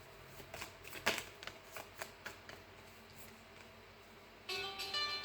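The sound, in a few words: tarot cards being shuffled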